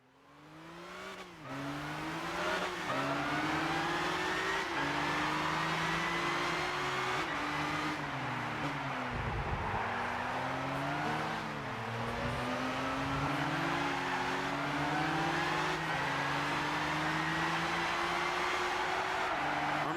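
Race cars in Gran Turismo 6 roar around the track with sustained engine whine, rising and falling through gear shifts and revs, loud and continuous.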